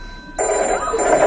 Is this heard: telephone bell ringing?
yes